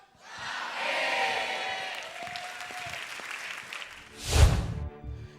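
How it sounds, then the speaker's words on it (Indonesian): A studio audience breaks into applause at an Indonesian stand-up comedy show, a steady wash of clapping that swells and fades, then a sharp loud burst of cheering near the end. "Tepuk tangan untuk..."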